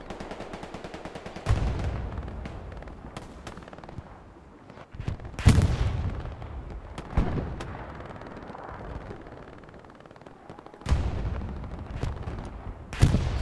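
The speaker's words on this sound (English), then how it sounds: "Oh, friendly artillery kills him." Heavy artillery blasts in a multiplayer WWII shooter match at Foy, several loud booming impacts spaced seconds apart, with scattered machine-gun and rifle fire crackling between them.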